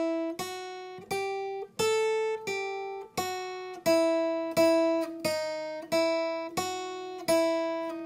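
A guitar plays the intro lick of a song slowly, a steady series of about a dozen plucked notes, each ringing briefly before the next, close and clear with no talking.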